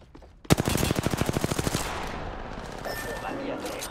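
Enemies open up with rapid automatic gunfire in a video game: a sudden loud burst of evenly spaced shots that rattles fast for about a second and a half, then trails off into a noisy battle ambience.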